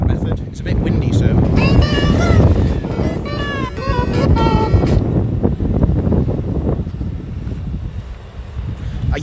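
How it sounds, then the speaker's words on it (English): Wind gusts buffet a microphone outdoors in Greece near water, a steady loud rumble running under continuous close talking, easing slightly in the last few seconds. "It's a bit windy"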